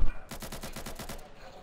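Burst of rapid automatic gunfire in the video game Insurgency, about nine evenly spaced shots in roughly one second, loud and close, fading into a faint tail.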